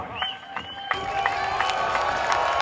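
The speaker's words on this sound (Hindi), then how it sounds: "आप सबके पुरजोर इस्तकबाल में हाथ उठाकर तालियों की गूंज में इस्तकबाल कीजिएगा" Crowd at a political rally for Imran Khan, a sudden burst of cheering and applause that starts abruptly and stays loud and dense, with shouts scattered through it.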